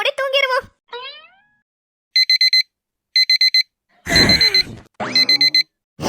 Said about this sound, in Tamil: வழக்கம் போலதான் அலாரம் அது பாட்டுக்கு அடிச்சிட்டு இருக்கு